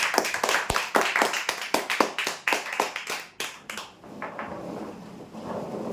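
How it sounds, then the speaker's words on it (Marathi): Applause from a crowd at a lucky draw as winners are named, a burst of loud, dense clapping for several seconds that thins and fades toward the end. "जोरदार टाळ्या देण्यासाठी"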